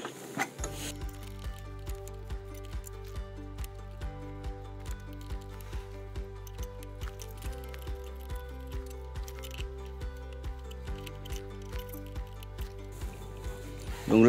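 A hand ratchet clicks in a steady, even rhythm while loosening the blade bolts on an Einhell TC-SP 204 planer-thicknesser, close up and alone, the crisp pawl ticks repeating regularly for over ten seconds.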